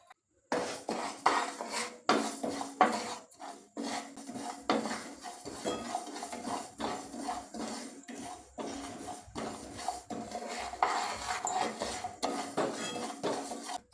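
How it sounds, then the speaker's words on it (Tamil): Millet roasting in a pan over a gas flame, with repeated metallic scraping and clinking of a spoon against the pan in a steady stirring rhythm, close and moderately loud. "அதில் ஒரு சின்ன கப் அளவுக்கு தினையை நல்லா ரோஸ்ட் பண்ணிடலாம்"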